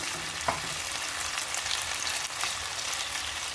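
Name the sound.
beef pieces searing and sizzling in a pan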